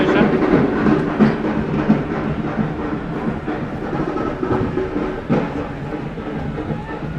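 A special passenger train pulls away from Chhatrapati Sambhaji Nagar railway station at sunset, its steady loud rumble and rattling wheels filling the air with occasional clanks.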